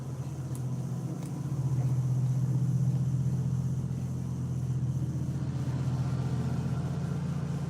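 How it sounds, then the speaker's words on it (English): A small milk frother's whirring hum deepens and strains in thick cream for a few seconds before steadying, continuous and close, with no voices. "sounds like this frother wants to die in this much"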